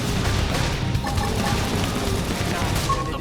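A flame grenade bursts in Xenoblade Chronicles X, and a dense, crackling roar of fiery blasts and combat noise fills the scene in a steady, loud wash.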